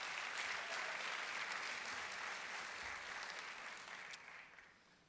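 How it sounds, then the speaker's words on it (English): Sustained applause from a large convention audience of PTA members, a dense, steady wash of many hands clapping that holds evenly before gradually thinning and fading toward the end. "Please give yourselves a round of applause."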